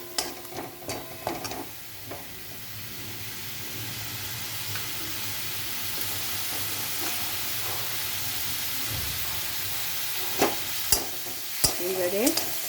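Onion-garlic paste with spices being stirred in a hot pan, with steady close sizzling and intermittent scraping stirs throughout, a few sharper clinks near the end.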